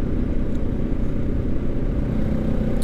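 A quad bike engine being revved and held on the throttle, a steady loud rumble that carries through the whole stretch with no talk over it.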